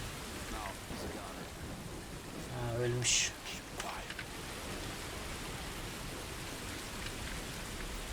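Rain falls steadily in the video game Call of Duty Modern Warfare 2, a constant hiss with a brief rumbling burst partway through, while someone speaks briefly.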